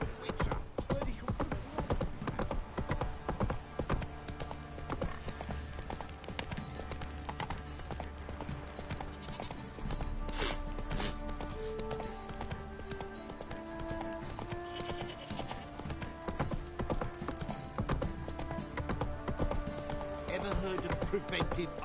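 Hooves clip-clop continuously as Roach the horse moves along in The Witcher 3, layered with game music and ambient sound.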